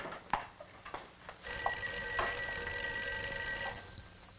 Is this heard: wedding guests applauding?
no